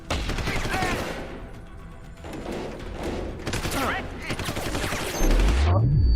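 Bursts of video game gunfire from Deus Ex: Human Revolution rattle in several clustered volleys of rapid shots, loud and close, with talk and a low rising electronic swell near the end.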